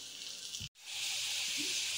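Steady loud sizzling of potatoes deep frying in hot oil for chips masala, a continuous bright hiss with a brief dropout partway through.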